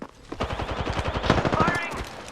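Automatic weapon fire from an Apex Legends match crackles in a dense, steady burst throughout, with a voice talking over it.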